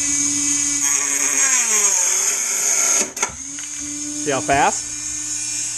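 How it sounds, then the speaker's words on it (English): A Dremel rotary tool with a cutoff disc trims a part for a gas-powered RC boat, a close, high-pitched whine that dips in pitch under load and rises again, with someone talking over it. "So now what I'm gonna do is I'm gonna trim this with the Dremel."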